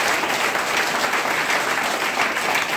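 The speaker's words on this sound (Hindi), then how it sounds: "अगर आपके घर राजा आए तो जैसी ताली आपने बजाया ऐसी ताली से दमदार ताली होगी।" Dense applause from an audience in a hall during a talk on a herbal product, loud and steady throughout with no pause in the clapping.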